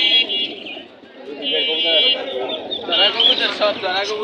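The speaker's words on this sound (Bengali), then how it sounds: "এখানে অনেকগুলো কবুতর আছে, প্রায় 40-50টা" Pigeons coo repeatedly at a crowded pigeon market in Bangladesh, their soft throaty calls mixed with nearby chatter and background bustle.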